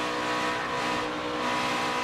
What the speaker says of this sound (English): Listen to that throttle